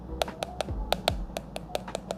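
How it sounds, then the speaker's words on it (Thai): Spoon taps on the caramelized sugar crust of a mango crème brûlée, a series of about a dozen sharp, close, evenly spaced knocks with no talking. "เวลาทานก็ เคาะให้มันแตก"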